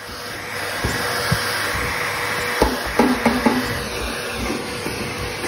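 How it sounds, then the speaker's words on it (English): A Hoover vacuum cleaner runs steadily close by while cleaning out a household radiator, a constant whirring drone with a few brief knocks and rattles as the nozzle bumps against the fins. "I'll repeat the whole process again with the Hoover"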